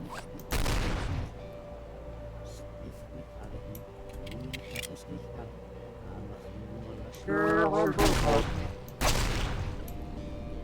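Video game gunfire: bursts of loud shots near the start and again toward the end, with quieter clicks and scattered effects between, over a steady low game hum.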